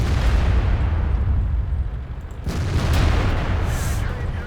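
A tank shell strikes the top plate of a T110E5's turret in World of Tanks, a heavy booming impact with a sharp crack partway through, set against a continuous low rumble of engine and battle noise.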